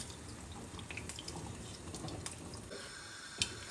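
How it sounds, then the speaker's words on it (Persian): Water from boiled rice is poured off and drains away, a soft, steady trickle and splash close by with a small clink near the end. "آب روی برنجمون رو خالی کردیم."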